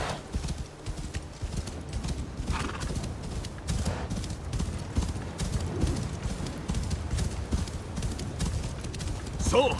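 Rhythmic hoofbeats clopping steadily on the ground, a video game horse moving at a trot, with faint background sounds and no clear talking.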